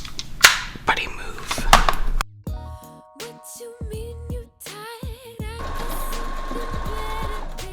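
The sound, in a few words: sewing machine stitching fabric strips into a ribbon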